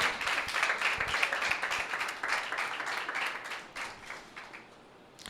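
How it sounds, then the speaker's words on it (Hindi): Church congregation clapping during a Sunday meeting, brisk and dense at first, then thinning out and fading toward the end. "यीशु के लिए तालियां बजाएं।"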